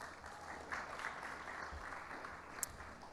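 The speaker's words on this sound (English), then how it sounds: "You can give Ben a round of applause" Faint, even applause from an audience at a Judson University Shark Tank event, a soft continuous patter of clapping heard from a distance with a single sharper clap near the end.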